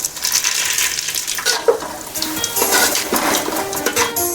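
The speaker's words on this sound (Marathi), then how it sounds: "आता आपलं तेल चांगलं तापलेलं आहे आपण खडा मसाला टाकूया" Whole spices sizzling in hot oil in a pot for a veg dalcha, a loud close crackle and fry with metallic clinks of a ladle stirring through it.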